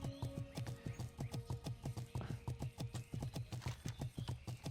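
Hooves of a horse mount ridden by a human character in World of Warcraft clop along in a quick, even gallop rhythm, close and clear with nothing else over them.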